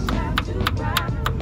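A car body panel beside the jack point is flicked or tapped by hand, giving five sharp knocks at an even rhythm, close and clear over a low steady background rumble.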